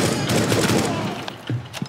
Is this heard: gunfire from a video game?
yes